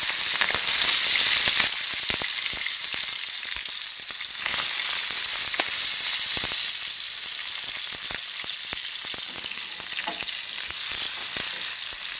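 Cumin seeds and finely chopped green chillies sizzle and crackle steadily in hot oil for egg bhurji, a loud, close, continuous frying hiss with scattered pops and stirring.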